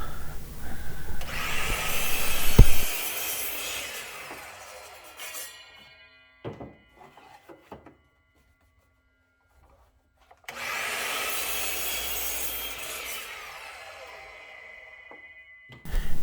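A power saw cuts a 3/4 inch thick pine board into 9.5 inch pieces. There are two loud, sustained whining cuts with a pause and a few clunks between them, heard close and without speech.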